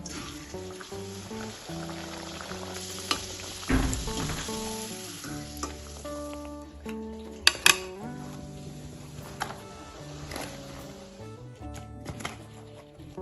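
Chicken parathas fry in oil with a steady soft sizzle, with a few sharp utensil clinks, all under a prominent melodic music bed.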